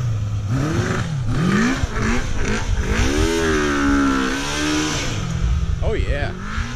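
A Kawasaki GPZ550 engine on a converted ATV revs unevenly, surging and sagging as it bogs and stutters while running out of fuel, loud and close, with a voice talking over it at times.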